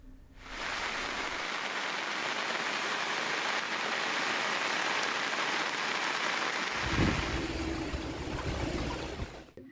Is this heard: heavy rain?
yes